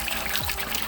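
Water gushes steadily through a hose hooked to the relief valve of a roughly seven-year-old household water heater being flushed for sediment, a continuous close rushing flow with no talk.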